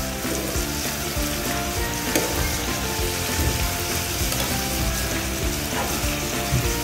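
Chicken and winged beans sizzling in a pan while being stirred, a loud continuous fry with clattering utensil scrapes and knocks scattered through it.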